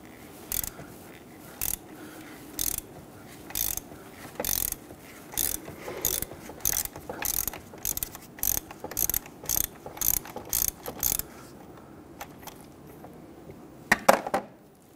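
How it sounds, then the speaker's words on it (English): A 3/8 drive ratchet with a 19 mm deep socket loosens the coolant temperature sensor on a 2017-2020 Hyundai Elantra 2.0L, giving close, crisp clicking bursts in a steady back-and-forth rhythm before a final louder clatter. "Now we're going to use our 19 millimeter deep socket on our 3/8 drive ratchet. And I want to go ahead and loosen this."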